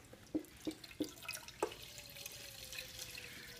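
Water runs from a tap into a cooking pot for mac and cheese, opening with a few distinct drips and splashes before settling into a quiet, steady trickle.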